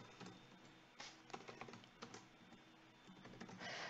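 Quiet, steady typing on a computer keyboard while entering a name into a network simulation program, with irregular clusters of key clicks and no talk.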